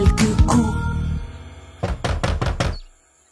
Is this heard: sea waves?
no